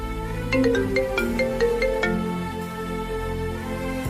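A mobile phone ringtone plays a repeating melodic tune of bright electronic tones, fairly loud and steady, with no one speaking over it.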